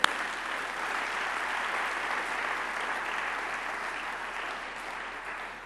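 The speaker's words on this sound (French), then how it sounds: "Oh, acclame pour Daniel." A church congregation bursts into sustained applause that stays dense and even, fading slightly toward the end.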